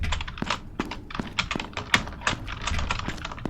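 Computer keyboard keys pressed during gameplay: a close, irregular burst of sharp clicky taps and thunks, some quick runs and some isolated strokes, with no talking.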